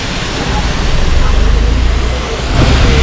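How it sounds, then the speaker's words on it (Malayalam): Cheeyappara waterfall beside the road to Munnar, a loud, steady roar of falling water with low rumble throughout and a brief dip before it swells again. "ഇതാണ് ചീയപ്പാറ വാട്ടർഫാൾസ് ആണ്."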